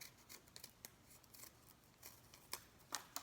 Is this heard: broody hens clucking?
no